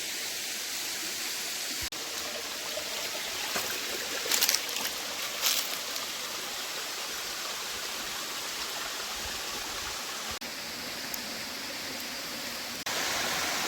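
Steady rushing water fills the scene, a constant broadband flow like a stream fed by a waterfall, with brief clatters partway through.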